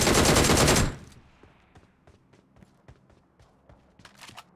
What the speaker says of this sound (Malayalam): നിനക്ക് വെടിവെക്കാൻ അവസരം തരാം